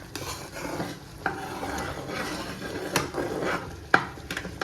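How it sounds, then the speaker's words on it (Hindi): Butter simmers on a low flame as it cooks down into ghee, giving a steady soft sizzle with occasional sharp scrapes and clinks from stirring in the pot. "मैंने रखा था इसको सिम पे, तो अभी ये उबल रहा है।"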